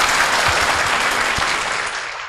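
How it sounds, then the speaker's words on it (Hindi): A seminar audience in a hall claps loudly and steadily on request, a dense sustained burst of applause with a few heavier thumps, easing off slightly toward the end. "और बजाओ ताली जोर जोर से"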